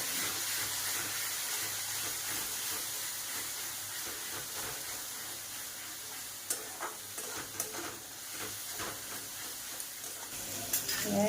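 Masala for a chicken curry, with tomato, being stirred and fried in oily pan until the oil separates: a steady, close sizzle and hiss. Scattered scrapes and taps of the spoon come through later.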